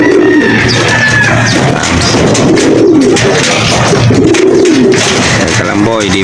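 Pigeons coo over and over in a dense, overlapping chorus, their low throaty calls mixed with scattered chirps and background bustle, close and steady throughout.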